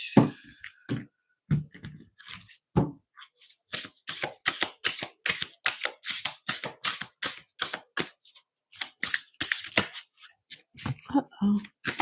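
Tarot cards shuffled by hand in a long run of rapid, rhythmic slaps and riffles, close and clear, with a brief voice at the start and end.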